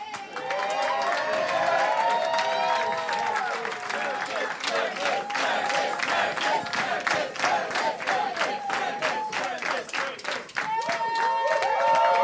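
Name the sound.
audience cheering and applauding the host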